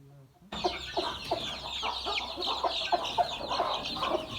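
Village hens on a poultry farm clucking repeatedly amid a busy chorus of fowl, steady and fairly close with overlapping calls throughout.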